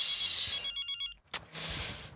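A telephone rings in a scene from the comedy series Taarak Mehta Ka Ooltah Chashmah. Its short, rapid electronic trill bursts come between stretches of hissy background noise, followed by a sharp click.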